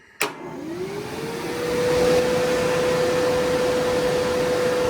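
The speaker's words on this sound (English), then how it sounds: "There is fan that is sucking in, and on this side, the fan sucking out." A Mr Cool DIY air conditioner unit in a shop starts up with a click, then its fans spin up into a steady whooshing hum with a rising whine that settles into a constant tone, close and loud.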